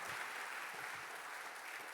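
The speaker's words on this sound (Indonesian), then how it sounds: "Tepuk tangannya boleh yang paling meriah buat Tuhan kita." A church congregation claps loudly together in dense, sustained applause, steady and full for the whole moment with no voices above it.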